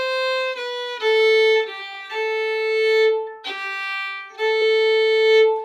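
Fiddle plays a slow phrase of the Irish hornpipe The Rights of Man, several sustained bowed notes moving stepwise with clean bow changes, solo and close.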